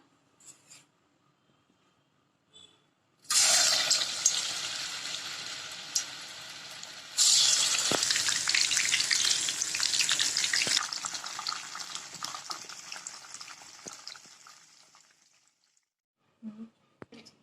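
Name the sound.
marinated mushrooms frying in hot oil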